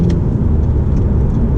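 A car moves slowly with a close, steady low engine rumble and no rise in revs.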